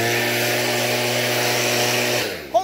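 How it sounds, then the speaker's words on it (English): A Stihl leaf blower runs at a steady, loud drone with a constant engine hum, then cuts off near the end and winds down. "I got a steel leaf blower"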